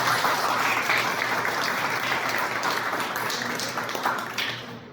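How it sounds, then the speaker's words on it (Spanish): Guests at a morning conference about the life and death of Serafín Olarte applaud, a sustained dense clapping from a seated crowd that holds steady and then thins out and fades near the end. "Un aplauso para ustedes."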